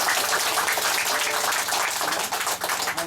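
A congregation at a church gathering in Pinagbayanan, Occidental Mindoro applauds loudly for the Lord, a dense, steady wall of many hands clapping close and full throughout with no pause.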